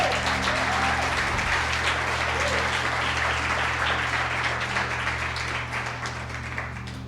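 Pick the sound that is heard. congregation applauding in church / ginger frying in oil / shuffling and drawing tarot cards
congregation applauding in church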